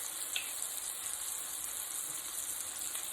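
Salmon frying in a pan on a stovetop over turned-down heat, giving a steady, even sizzle that fills the whole clip with no talk.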